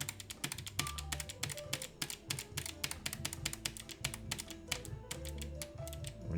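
Fingers type rapidly on a computer keyboard, a close, dense clatter of keystrokes that runs nearly nonstop over a low background hum.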